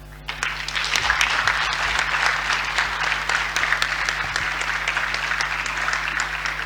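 Members of a national transitional council applaud the President of the Republic during the official presentation of a draft constitution, a steady sustained round of clapping from a large seated assembly, loud and continuous throughout with a constant low hum underneath.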